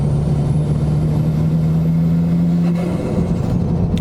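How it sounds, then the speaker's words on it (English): A modified 413bhp Ford Fiesta with a flame-spitting side-exit screamer pipe, droning loudly and steadily with a sustained low engine tone that holds for about three seconds before shifting. "That's the screamer pipe."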